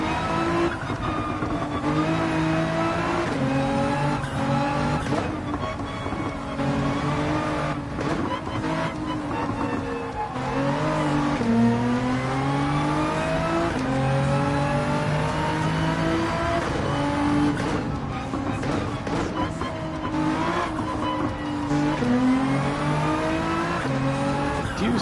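Race car engine in Gran Turismo 7 revving steadily through gear changes, the pitch climbing and dropping repeatedly as the throttle is worked through a turn, loud and continuous for the whole stretch with faint tire noise.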